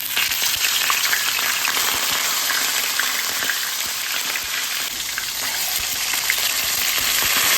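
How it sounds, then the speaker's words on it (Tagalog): Fish frying in hot oil in a pan, a loud, dense, continuous sizzle and crackle, close up, with no talking. "Nagpainit na tayo ng mantika. Ipiprito muna natin yung isda."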